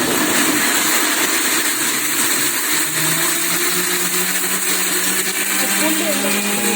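A mixer grinder whirs loudly and steadily while blending chutney, its motor drone filling the clip without pause. A voice may be faintly audible beneath the noise.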